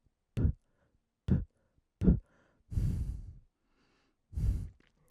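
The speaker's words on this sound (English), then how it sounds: "One thing though still exists, which is a little bit of an issue, which is the picking up of breathing noises and also P sounds" Breathing noises and plosive pops caught by a gaming headset microphone, several short sharp bursts followed by longer breathy exhales, close and isolated against near silence.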